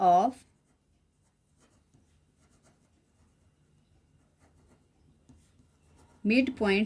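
Marker or chalk writing on a classroom board during a coordinate geometry lesson, a faint steady scratching that runs between bursts of a teacher's speech at the start and end.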